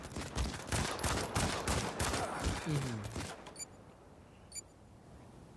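Rapid automatic gunfire in the Modern Combat 5 Blackout mobile shooter fires in dense bursts for about three seconds, then gives way to a couple of sharp metallic clicks over quiet background.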